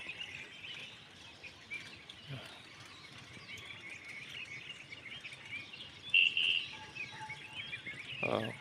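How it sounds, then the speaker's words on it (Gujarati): Birds chirp and call around a village lake under dark rain clouds, with scattered tweets over a soft outdoor background and a few louder calls near the end. "પક્ષીઓ કલરવ કરે"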